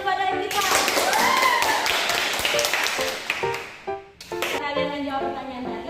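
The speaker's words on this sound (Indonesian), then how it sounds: "Beri tepuk tangan kepada Ektiva." A classroom of students claps for a classmate after a good answer, a burst of hand claps lasting a few seconds with children's voices and some chatter mixed in.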